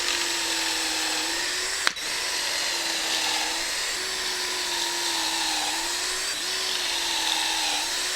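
A power drill whines steadily and close up, driving screws into wood for a DIY patio sofa and chair build, its pitch dipping slightly as each screw seats, with one sharp click near the start.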